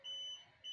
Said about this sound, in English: as you can hear from the beeping shows that the signal has now what been served for DSTV